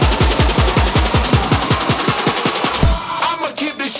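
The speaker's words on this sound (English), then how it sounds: "Now the drop sounds like this." An electronic track's drop hits hard with rapid repeating 808 bass and kick pulses under dense, distorted synth texture, loud and relentless, then the low end drops out near the end, leaving glitchy noise bursts.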